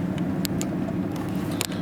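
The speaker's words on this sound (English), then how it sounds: "I'll leave my truck running." A pickup truck idles nearby at a range day, giving a quiet, steady low rumble with a few faint clicks and ticks on top. No one speaks.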